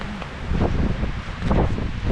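Wind blows steadily at a winter campsite amid rain and softening snow, a low rushing buffet with gusty surges, close and constant, no voices.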